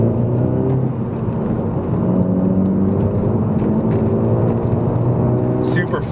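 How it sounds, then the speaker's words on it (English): A 2006–2009 Volkswagen GTI MK5 accelerating up a hill, the engine note climbing steadily under a constant road roar, close and loud, with someone talking over it. "Here, let me do a pull real quick up this hill."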